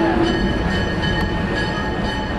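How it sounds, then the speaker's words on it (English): Erie Lackawanna 310, a locomotive originally built for the Erie Railroad, rumbles at the Hoosier Valley Railroad Museum with a steady, loud, close mechanical drone and a thin sustained tone riding over it. "The locomotive for today's train is Erie Lackawanna 310."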